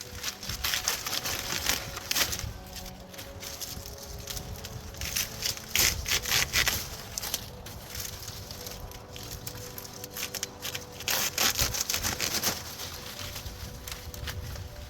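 A hand saw cuts through a tree branch close to the trunk, with steady back-and-forth rasping strokes in uneven bursts, close and fairly loud.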